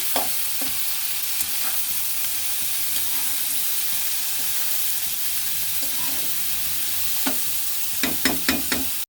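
Red amaranth greens with green chillies and salt fry in a pan under a steady sizzling hiss, a spatula stirring in occasional scrapes and then a quick run of sharp taps near the end.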